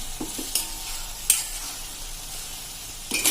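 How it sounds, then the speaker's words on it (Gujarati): Tomato puree hits hot oil already crackling with cumin and mustard seeds, setting off a loud steady sizzle broken by scraping stirs of a spoon in the pan, close up and free of speech. "હવે આ સ્ટેજે આપણે આજે ટમેટાની પ્યુરી કરી છે એ નાખી દઈશું અને એને આપણે સરસ મિક્સ કરી લેશું"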